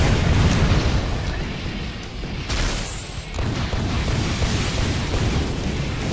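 Missile explosions in a Val vs Stryker 1v1 video game match: a dense, continuous roar of booms and blasts, loud throughout with a brief dip and a fresh burst near the middle.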